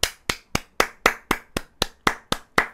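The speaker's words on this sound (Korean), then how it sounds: "우리 박수 한번 드리겠습니다" A steady run of about eleven sharp, evenly spaced hand claps, close and alone, given as applause for a reporter on a Korean news commentary program.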